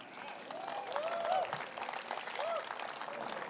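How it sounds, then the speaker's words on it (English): A crowd at a Republican Party of Orange County victory rally applauds steadily at a moderate distance, soft continuous clapping with faint cheers and voices mixed in underneath. "give a big round of applause to our chairman and the OCGOP"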